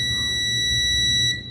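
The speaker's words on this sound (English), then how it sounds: "If we set it into continuity and connect these probes, one from here and then here, you can hear the beep" A multimeter set to continuity gives a steady, loud electronic tone as its probes touch two connected pins on a laptop motherboard, sounding unbroken until it cuts off near the end.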